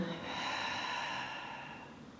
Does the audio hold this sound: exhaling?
yes